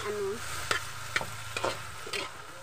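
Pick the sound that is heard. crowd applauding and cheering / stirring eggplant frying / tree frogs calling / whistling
stirring eggplant frying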